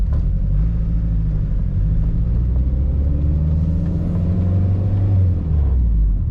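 Turbocharged K-swapped car engine droning steadily while driving, a loud low rumble with slowly rising engine tones heard from inside the cabin, no talking.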